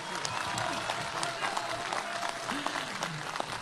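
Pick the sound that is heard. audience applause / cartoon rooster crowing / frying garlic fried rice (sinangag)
audience applause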